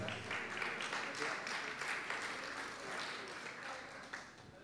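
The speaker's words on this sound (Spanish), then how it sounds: "El aplauso para ellos, por favor." Audience applause for neighbourhood prize winners at a Miraflores punctual-neighbour prize draw, a steady wash of many hands clapping at moderate level for several seconds, with faint voices mixed in.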